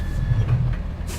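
A heavy truck hauling a long trailer in the MudRunner off-road driving game gives off a loud, low engine rumble that churns steadily, with no voices over it.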